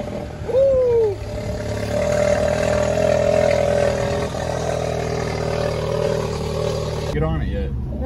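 A 2020 Audi A3 fitted with a Kyle's downpipe, CTS parts and a resonator delete fires up for its first start, settling into a loud, steady, raspy idle for about seven seconds before cutting off abruptly, with a brief voice near the start.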